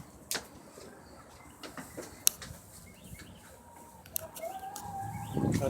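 Chickens on a farm give soft, scattered clucks and short calls amid rustling and a few sharp knocks, fairly faint and close, with a rising shuffle at the end.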